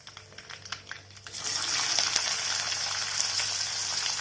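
Chopped onions drop into hot oil already crackling with curry leaves and dried red chillies, a few sharp taps and crackles giving way to a steady, loud sizzle close by, with no talking over it.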